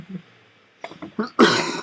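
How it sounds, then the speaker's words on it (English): A few short throaty bursts build into one loud, harsh cough right at the microphone, with quiet room sound before it, during a card game tournament commentary. "You're coughing."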